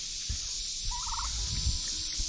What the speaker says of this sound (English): The turkeys especially sound like that dinosaur from Jurassic Park that spits that nastiness onto people's faces.